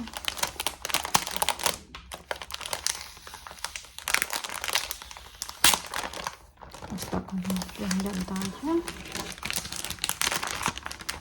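Plastic packaging from a LUCA-S BU5035 embroidery kit crinkles and rustles up close in irregular bursts while someone talks quietly over it.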